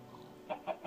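Three short, soft clucks from chickens in the Minecraft video game, evenly spaced and fairly quiet, over a faint background hiss.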